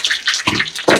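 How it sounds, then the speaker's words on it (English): Tap water rinsing items in a kitchen during egg roll prep, with close, splashy bursts of running water that surge and drop in short pulses. "See if I can rinse these 2 off a little better."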